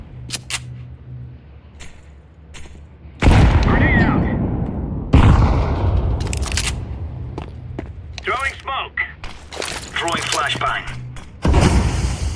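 A flashbang grenade in Counter-Strike 2 goes off with a loud, sudden blast that rings out, followed by a second sharp bang and scattered gunshots, with talking in between.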